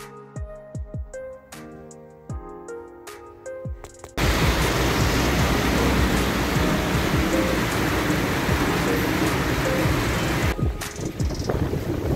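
After a few seconds of quieter tonal sound, heavy rain abruptly takes over as a loud, dense, continuous hiss with scattered drop impacts, easing slightly near the end; thunder is not clearly distinguishable.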